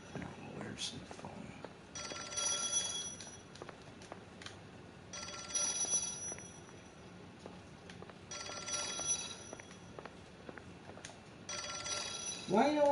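An old-style telephone bell in an L.A. Noire game rings in four evenly spaced bursts with quiet gaps between them, fairly faint, and voices talk in the gaps.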